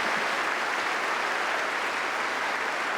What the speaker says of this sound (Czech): Máš větší potlesk než já